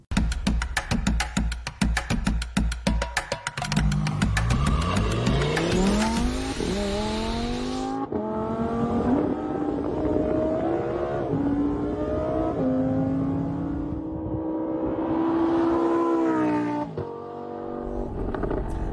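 Sterrato sports car driven hard on a track, with rapid clattering exhaust at first, then a loud engine climbing through the revs across several upshifts, tire squeal mixed in, the pitch dropping and rising again as it passes.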